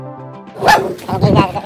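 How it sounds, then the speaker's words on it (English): A dog barks in the background while someone talks, with a short bark or yip near the start followed by further muffled barking under the speech. "Sorry about the dog in the background."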